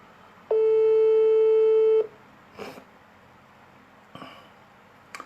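Telephone busy signal from a failed call attempt, a single steady electronic tone held for about one and a half seconds, loud and close, followed by a few faint clicks and rustles.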